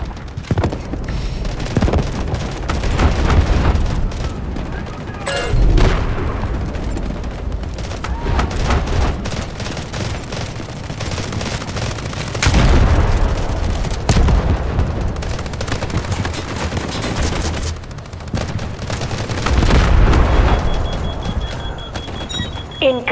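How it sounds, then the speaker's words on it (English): Incoming artillery explosions in Delta Force: Hawk Ops, heavy booming impacts arriving in several loud waves amid continuous crackling battle noise and splintering debris. "Incoming artillery, destroy the enemy."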